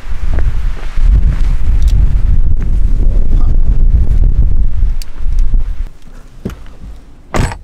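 Strong wind gusting on the Oregon coast at Bandon, loud low roaring buffets against the microphone that ease off near the end, leaving faint scattered rustles and a couple of sharp knocks.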